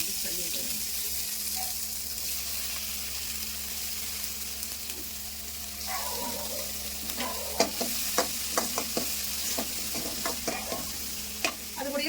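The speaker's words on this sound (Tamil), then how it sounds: "இப்போ வந்து பெரிய வெங்காயத்தை நம்ம வதக்கலாம்" Large onions sautéing in a pan for mushroom gravy, with a steady background sizzle that breaks into a run of sharp, rhythmic spatula scrapes and taps toward the end.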